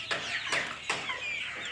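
Desi chickens on a farm cluck in quick, sharp bursts, three or four close calls with a steady chatter of hens in the background.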